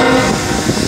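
A KCS locomotive horn blares in one long steady tone in a rail switching yard, loud and close, with the low rumble of a train underneath.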